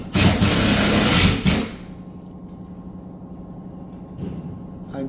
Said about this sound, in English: Now we are going to put the screws through the nailers into the drywall